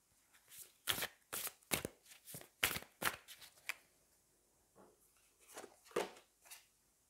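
Tarot cards are handled and pushed across a surface, making a close, quiet series of crisp slaps and shuffling swishes in irregular bursts.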